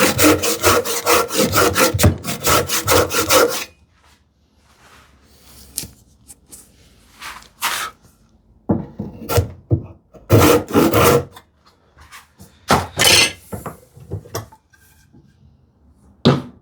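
A freshly sharpened hand saw cuts wood on a cupboard build, first with a quick run of rhythmic push strokes, then after a pause with scattered short rasping strokes and light knocks.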